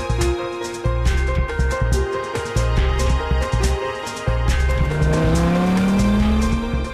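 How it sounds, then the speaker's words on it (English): An Audi R8 5.2 FSI quattro with its ten-cylinder engine drives hard, tires squealing through skids, the engine note rising and falling loudly in repeated bursts and a long climbing rev near the end. "The 10-cylinder engine impressively combines top performance,"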